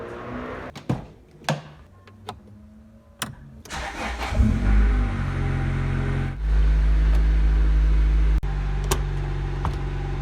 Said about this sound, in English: I'm just going to pull away the bucky so I can pull the car to the back